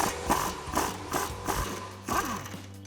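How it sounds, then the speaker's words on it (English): A hand ratchet turns an 18mm socket on the front strut nut of a 2015-2024 Ford Mustang, giving about six quick clicking bursts in a steady back-and-forth rhythm, close and alone. "while you get an 18mm socket on the nut on the front"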